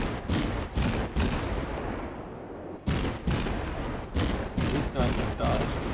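Naval gunfire in the World of Warships game, featuring the USS Wicks destroyer, with repeated loud booming shots at irregular intervals over a dense roaring battle background, with some talk.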